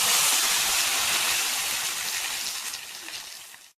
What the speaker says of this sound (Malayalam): ഇത് മൂപ്പായി നമ്മൾ കറിയിലേക്ക് ഒഴിക്കുക.